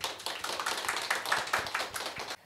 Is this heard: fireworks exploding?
no